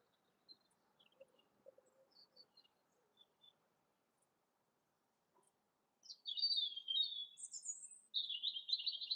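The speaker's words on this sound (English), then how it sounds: "The ability to hear the birds," Birds sing outdoors, faint scattered chirps at first, then louder, clearer high twittering phrases that repeat close by toward the end.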